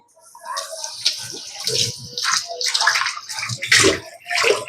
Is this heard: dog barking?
no